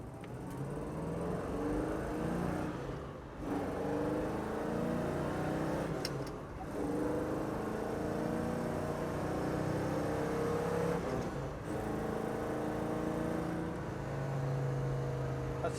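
A 1970 Ford Mustang Mach 1 accelerating on the road, its engine droning steadily and dipping briefly at three gear changes as it climbs through the gears, heard from inside the car.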